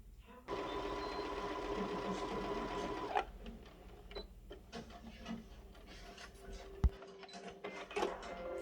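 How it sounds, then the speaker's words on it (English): A sewing machine stitches a skirt waistband casing closed, running steadily at close range for about three seconds, then giving way to short bursts of stitching and light mechanical clicks with quiet background noise. "I'm going to sew my casing closed, and once I reach the end of that casing, I'm going to back stitch again."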